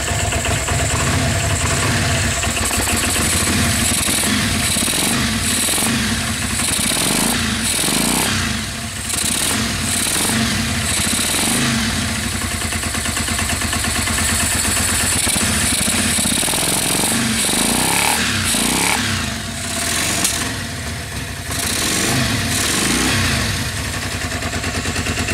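A Yamaha Virago XV500 cafe racer motorcycle engine runs steadily and close by for the whole stretch, a loud continuous idle with repeated throttle blips and small revs, no talking over it.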